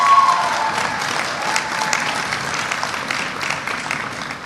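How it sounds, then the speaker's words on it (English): A university convocation audience applauds the institution's editors: dense, sustained clapping filling a large hall, loudest at the outset and easing slightly later on, with no speech over it. "Mrs. Georgette Baker, they deserve a round of applause."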